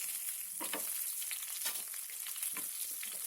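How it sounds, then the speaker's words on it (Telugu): Crushed garlic, dried red chillies and curry leaves frying in oil for a beetroot chutney, giving a steady, close sizzle with scattered crackles and occasional stirring scrapes, no voices. "వెల్లుల్లి కలర్ చేంజ్ అయ్యే వరకు వేయించాలండి"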